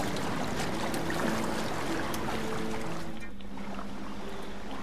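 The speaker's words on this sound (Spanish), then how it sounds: "Ahí hay una catarata" A waterfall in the video game Zelda: Breath of the Wild gives a steady, dense rush of falling water with no pauses, backed by a faint low musical hum.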